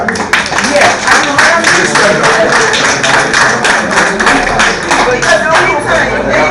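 A crowd at a town hall meeting in Bellevue Chopin claps in applause, a dense, loud, continuous patter of many hands that holds steady throughout, with voices mixed in beneath.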